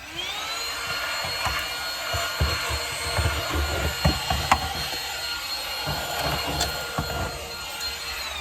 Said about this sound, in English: Actually, I think I'm gonna get the big vacuum.